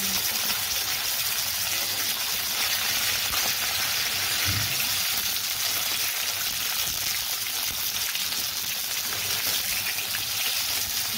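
Fish frying in hot oil for a fish biryani, a steady close sizzle and hiss throughout, with a brief soft knock as the pieces are turned over partway through.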